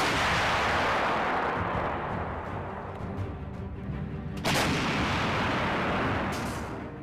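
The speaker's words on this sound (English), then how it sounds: "howitzer that is able of delivering a very high rate of fire" A PzH 2000 self-propelled howitzer fires artillery, a heavy booming blast rolling into a long rumbling echo, followed by a second sharp report partway through and another fainter shot near the end.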